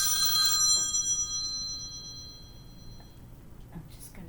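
A telephone rings with a bright electronic trill at the start, then fades and lingers faintly, with quiet household sounds and a brief voice in the background.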